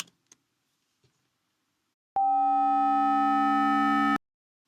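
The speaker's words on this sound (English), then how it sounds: "the amount by which the modulated signal goes up in frequency and down in frequency. As we increase that, well, listen to what happens." A synthesized FM tone switches on abruptly and holds steady for about two seconds, its modulation depth rising so overtones multiply and the sound turns steadily brighter, after a few faint clicks.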